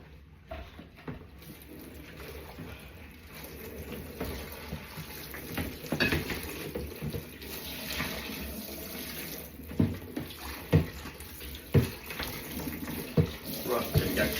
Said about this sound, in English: I can tip this water away.